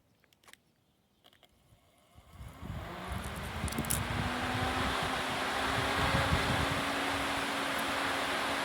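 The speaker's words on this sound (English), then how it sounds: "let's hook it up to the fan and see how it sounds" After a few faint clicks, a small 12-volt electric fan in a greenhouse spins up and settles into a steady, close whooshing whir with a faint rising hum.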